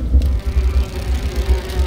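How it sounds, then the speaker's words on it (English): Bees buzz in the video game Grim Fandango, a continuous low droning hum that pulses and wavers steadily, fairly loud, with no speech. "Why are there bees?"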